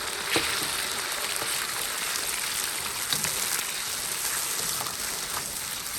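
Chopped salted chilli paste stir-fries in oil in a wok with ginger, garlic and Sichuan peppercorns, giving a soft, steady sizzle and patter with a few faint scrapes, fairly quiet and with no talk.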